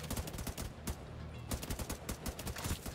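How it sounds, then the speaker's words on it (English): Gunfire in The Division 2: rapid, steady bursts of automatic rifle shots that are loud and close, with brief pauses between the volleys. "The shooting feels good."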